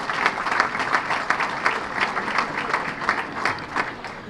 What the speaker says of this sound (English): So let's have a round of applause for those folks.